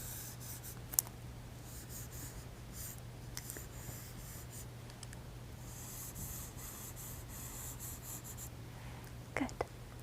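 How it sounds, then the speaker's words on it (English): A pencil eraser rubs across paper in soft, quick scratchy strokes, close and quiet in a hushed room, with a faint steady hum underneath and a couple of small taps. "I'm going to erase this little guy here."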